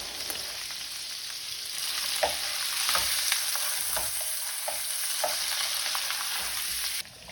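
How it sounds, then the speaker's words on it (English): Garlic sizzling in extra virgin olive oil with onions and mushrooms over medium-low heat, a steady bright hiss with occasional spoon scrapes and taps, continuous and close, cutting off abruptly at the end. "Throw our garlic in."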